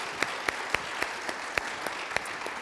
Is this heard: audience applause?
yes